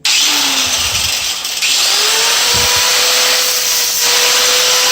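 A power grinder works on the rear fairing of a 1996 Honda CBR900RR motorcycle, holding a loud, close, continuous whine throughout with a slight shift in pitch midway.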